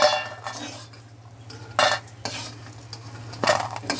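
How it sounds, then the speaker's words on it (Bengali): Urad dal bori (lentil dumplings) frying in oil and being stirred in a pan: a low sizzle under sharp, intermittent scrapes and clinks of a metal spatula against the pan, close by, with a steady low hum beneath and no talk. "বিউলির ডালের বড়ি কিনে ভেজে নিচ্ছি।"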